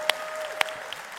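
A church congregation applauds during a Passover service, a brief, steady patter of many hands clapping at moderate volume with a few sharper claps standing out.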